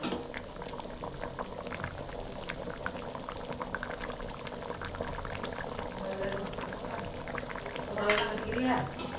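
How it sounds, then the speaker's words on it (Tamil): Thick capsicum gravy bubbles in a pan, a dense, steady simmering burble with wet pops and a brief stir of the ladle near the end, heard close up. "கிரேவி வந்து நல்லா கொதிச்சிருச்சு கொதிச்சு நல்லா வந்து திக்காக வந்துருச்சு"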